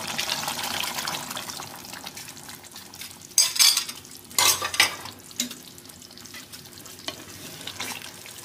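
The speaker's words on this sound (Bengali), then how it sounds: "এখন আমি কর্নফ্লাওয়ার মিশ্রণ জলটা দিয়ে দেবো।" Cornflour and water mixture poured into simmering chilli chicken gravy in a pan, with a soft sizzle and bubbling, then several sharp splashes and stirring scrapes near the middle, fading back to a low simmer.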